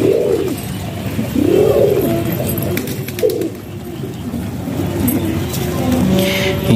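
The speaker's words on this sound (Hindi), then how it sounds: "ये जोगिया कबूतर है जी" Fancy Jogiya pigeons cooing nearby in soft, repeated rolling calls, spaced a second or two apart, with faint background noise and a passing car.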